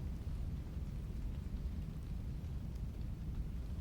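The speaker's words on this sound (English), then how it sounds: "Can you hear the rain?" Steady heavy rain pours outdoors, a dense continuous wash with faint low rumbles underneath, even and unbroken throughout.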